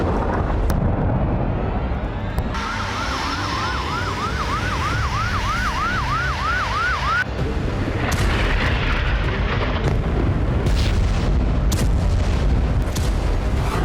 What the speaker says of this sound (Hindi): इजराइल दमिश्क के पास बमबारी करके हथियार डिपो को तबाह कर रहा है